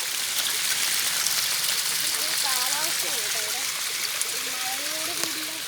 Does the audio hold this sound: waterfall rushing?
yes